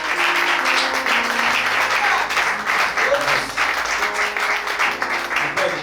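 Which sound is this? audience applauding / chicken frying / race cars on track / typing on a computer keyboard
audience applauding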